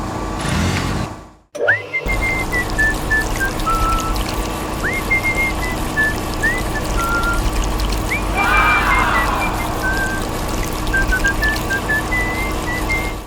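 Water trickles and pours from a LEGO watering sweeper truck as its small motor hums, with thin whistling tones sliding up and down throughout after a brief dropout near the start.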